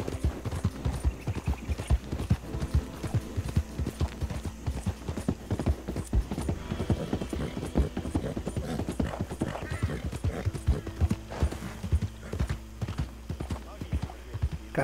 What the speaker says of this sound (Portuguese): se eu não me engano, ele é o meu melhor cavalo de corrida que eu tenho